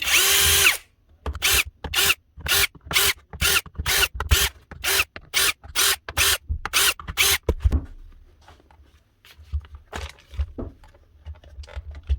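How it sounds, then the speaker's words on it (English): Power drill driving out screws from a broken power tool during repair, a rapid series of about fourteen short loud bursts in the first eight seconds, then quieter scattered handling and clatter with no talk. "Then start unscrewing."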